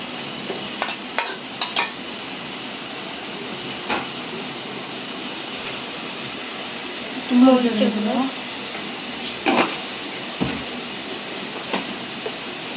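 Turmeric powder and spices being stirred in a pan for a homestyle Bengali dish, with soft scrapes and clinks over a steady background hiss, scattered across the clip.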